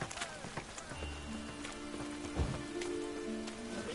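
Rain patters continuously in Witcher 3: Wild Hunt, a steady hiss of drops with faint thuds and hoof-like clops in the background.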